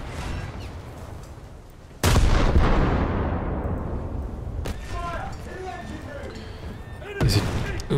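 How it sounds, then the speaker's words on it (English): Heavy naval shells from an enemy cruiser slam into the player's ship in a World of Warships style battle, a deep booming impact followed by a long rumbling decay, then another blast near the end, with talking in between. "it's a cruiser shooting me"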